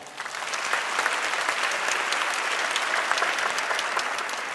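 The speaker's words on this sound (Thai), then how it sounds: "ขอเสียงปรบมือครับ" A large audience at a Thai awards ceremony breaks into sustained, dense applause that swells quickly and holds steady at full volume, with no voices over it.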